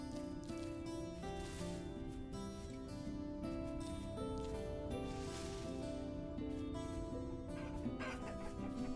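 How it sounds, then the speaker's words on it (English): Chickens clucking in the survival game Vintage Story, a few birds close by with scattered calls over a steady busy game soundscape of music and ambience. "We got some chickens."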